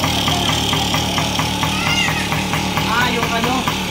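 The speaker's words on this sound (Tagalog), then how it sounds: "Tahimik ng makina niya oh." A Yamaha PW50 youth motorbike idles with its carburetor open, a steady rapid putter with a rhythmic pulsing beat, close and fairly loud, with someone speaking over it.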